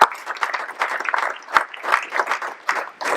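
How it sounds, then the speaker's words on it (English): Audience applause at a panel conversation on environmental, social and governance issues with senior energy leaders, a dense sustained patter of many hands clapping at steady loudness throughout. "Let's give Andrew a warm round of applause."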